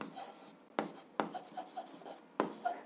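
Pen strokes scratch across paper during an algebra exercise in a quiet room, in short bursts with sharp onsets and brief pauses.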